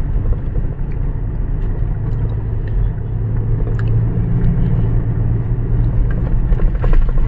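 A 2018 Mazda BT-50 pickup on a road test gives a loud, steady low rumble of engine and tire noise from inside the cab, continuous road roar with light rattles and no talking.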